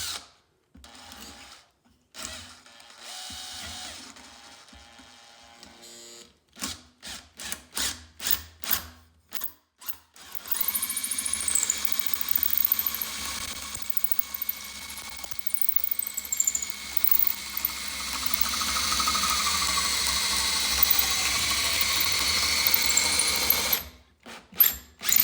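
A wood strip for a box hinge is worked through a power cutter, starting with choppy bursts of whirring and then settling into a long steady grinding hum before it stops and restarts briefly.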